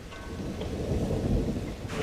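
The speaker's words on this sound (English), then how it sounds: "Just as rain o'clock strikes again." Heavy rain pours steadily in Malaysia while a deep rolling rumble of thunder swells and fades beneath it, a dense close wash of sound with no voices.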